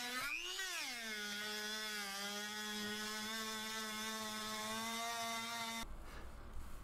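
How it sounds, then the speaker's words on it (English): A buffing wheel loaded with simple buffing compound polishes cast bronze inlay set in juniper wood, giving a steady whining motor tone that spins up and then holds evenly before cutting off abruptly. "This is just a simple buffing compound and simple buffing wheels."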